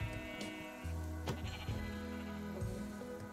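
Sheep in the video game Minecraft bleat in a quick series of close, clear calls that overlap and repeat throughout, with no talking.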